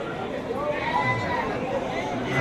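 Sheep bleat amid the bustle of a rural village livestock market, with a drawn-out, wavering call rising near the middle over a constant background murmur of people.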